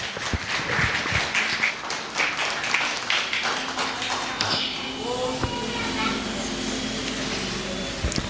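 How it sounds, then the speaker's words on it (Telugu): A church congregation at a Sunday evening service claps together in a quick, steady rhythm for a few seconds. The clapping then fades as a voice takes over over a low room hum. "దయచేసి చప్పట్లు కొడుతూ దేవుని నామాన్ని గణపరుద్దాం"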